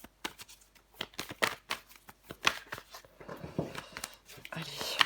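Tarot cards handled and laid down during a reading, a string of short dry snaps and slides in an irregular rhythm, close by, with a voice speaking over parts of it.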